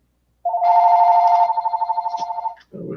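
An incoming call sets off a loud, close electronic telephone ring, a steady tone that breaks into a fast warbling trill before stopping, followed by a brief burst of noise.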